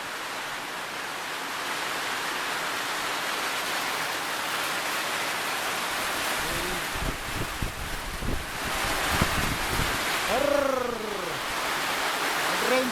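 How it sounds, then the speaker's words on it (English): Heavy rain pouring in Pynthor Langteiñ Valley, a dense, constant hiss throughout, with brief voices and a few short rising calls breaking through near the end. "It rains so heavy, man, so heavy."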